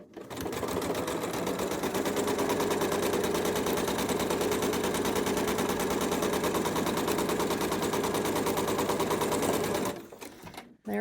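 A sewing machine runs a quarter-inch quilt seam in one long, loud, fast rattling burst of about ten seconds before stopping abruptly.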